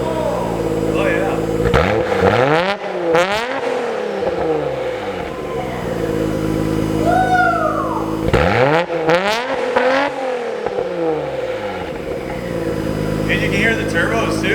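A Skyline R33 GTR fitted with a titanium exhaust revs hard twice, engine climbing and falling in loud close sweeps with turbo whoosh and a chirp between blips, idling burble in between and voices talking over it.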